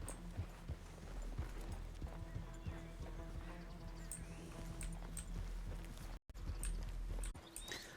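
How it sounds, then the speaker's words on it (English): Several horses' hooves clip-clop in the RedM video game, a steady close rhythm of hoof strikes on hard ground throughout, with a brief whinny, faint ambience and a short dropout near the end. "There's multiple horses here."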